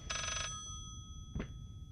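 A telephone rings in the horror game Layers of Fear, one clear electronic bell burst followed after a pause by a shorter second ring, moderately loud over a quiet low room hum with no talk.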